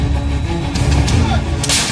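An M-777 ultra-light howitzer fires, a loud, broadband boom with continuous low rumble and several sharper bursts over a couple of seconds, close and dominant with no talking.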